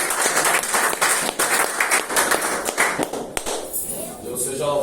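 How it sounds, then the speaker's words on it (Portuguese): A church congregation claps together in a dense, rhythmic burst of applause close by, thinning out toward the end as a voice speaks. "Aplauda o Espírito Santo."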